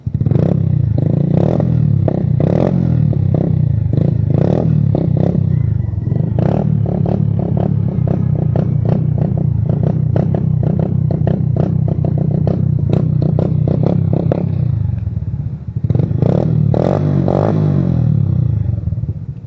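Suzuki Smash motorcycle fitted with an Apido v3 exhaust, revved repeatedly up close: loud, raspy bursts of throttle over a steady idle, with a brief dip before the revving resumes.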